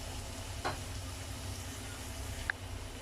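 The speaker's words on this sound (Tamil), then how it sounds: "வெங்காயம் வந்து நல்லா வதங்கணும்." Onions sautéing in a pan for masala pasta, a quiet, steady sizzle under a low background hum, with a brief stirring scrape near the start and a faint tap near the end.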